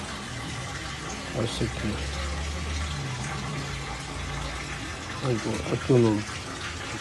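Water gushes through a noisy car gearbox's cooling line where oil has mixed with water, a steady loud rushing flow with people talking briefly over it.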